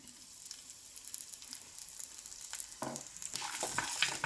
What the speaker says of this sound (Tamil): மீடியம் ஃப்ளேமில் வச்சே நல்லா ரோஸ்ட் பண்ணி எடுத்துக்கலாம்